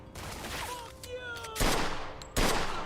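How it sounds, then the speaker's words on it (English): Gunfire in a mafia video game: a few sharp, loud shot bursts cut through steady background game sound, with tonal effects and a whistling sweep in between. "The shooting is low-key realistic."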